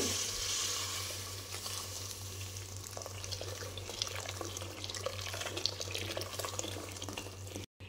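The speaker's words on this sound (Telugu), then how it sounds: "ఇందులోకి వేడివేడి నీళ్ళు అయితే వేసేయండి" Hot water pours into a soup pan holding onions and green chillies for chicken noodle soup, a steady watery rush with faint sizzling running throughout, close and continuous, with no talk.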